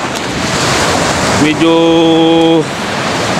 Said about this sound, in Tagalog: malakas yung buntot alon niya oh